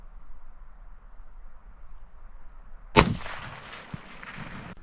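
A single sharp rifle shot cracks out at a distant moose during a backcountry hunt in Newfoundland, followed by a rolling echo that fades over the next two seconds against a quiet outdoor background.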